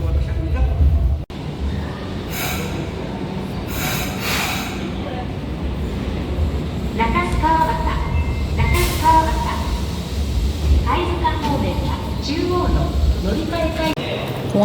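A Fukuoka airport-line subway train rumbles steadily from inside the car, a loud continuous low roar lasting throughout. Faint voices and brief announcement-like tones sit under the running noise.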